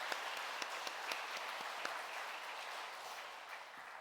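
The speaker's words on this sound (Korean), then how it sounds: "우리 박수로 다시 한번." A church congregation in a Korean service claps for the choir, a quiet, even spread of many hands heard from a distance and holding steady throughout.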